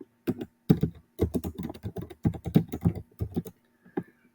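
Rapid keystrokes on a computer keyboard come in dense bursts with brief pauses between them, close and clear, and no voices are heard.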